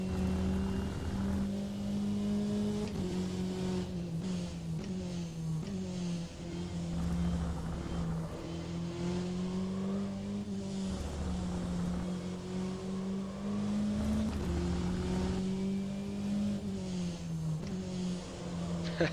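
A race car engine in the rFactor 2 sim racing game at the Spa circuit drones continuously with a buzzy, rising and falling pitch as it revs and shifts, heard alone at a steady, moderate level.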